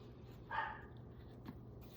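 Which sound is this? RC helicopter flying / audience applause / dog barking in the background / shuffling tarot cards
dog barking in the background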